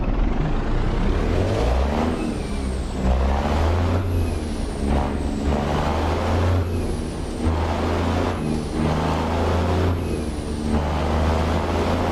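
Heavy truck engine rumble with repeated hissing air-brake releases in a realistic owner-operator truck driving simulator, a steady low drone under several sharp hiss bursts.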